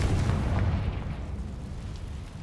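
A Confringo fire-spell blast in the video game Hogwarts Legacy, heard as one deep, loud boom that rolls off into a low rumble over about two seconds.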